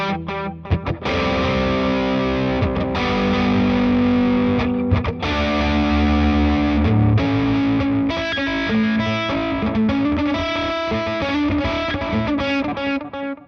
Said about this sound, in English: The delay in front of distortion sounds like this,